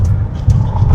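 A car is driven along the sharply turning roads of Tawang, giving a low, steady engine rumble with faint wind noise and no speech for about a second.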